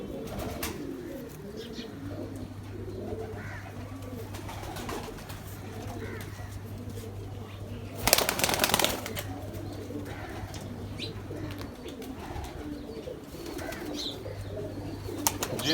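Pigeons cooing in a low, steady run close by, with a brief burst of wing flapping midway and soft background noise throughout.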